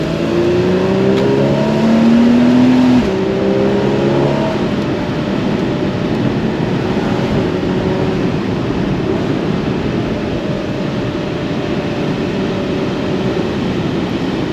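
Porsche Boxster sports car driving with a steady, loud engine drone and a rising rev in the first few seconds, then a constant roar with road and wind noise.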